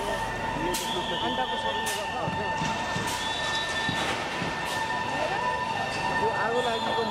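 A fire engine siren wails steadily in the background at a fire in Nepal, a sustained tone running under continuous talk from a reporter.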